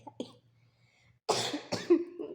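Someone indoors at home coughs: a faint sound first, then two sharp, close coughs in quick succession, ending with a rough throaty trail.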